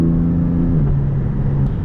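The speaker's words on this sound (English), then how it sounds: "let you guys enjoy the sights and the sounds of this car" Porsche 718 Spyder sports car engine heard close and loud, a steady low drone that drops pitch slightly partway through as the revs shift, running continuously without talk.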